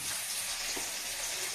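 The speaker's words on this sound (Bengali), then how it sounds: "এখানে যে পেঁয়াজ ভাজছি" Onions frying in a pan for a shortcut chilli soybean dish, giving a steady, close hiss and crackle that runs unbroken through the whole stretch with no talking.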